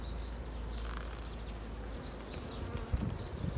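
Honeybees at a busy three-storey hive, a thick, continuous buzzing swarm heard up close at low volume, with faint bird chirps in the background.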